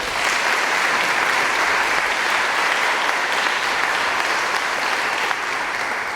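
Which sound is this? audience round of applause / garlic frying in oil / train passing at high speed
audience round of applause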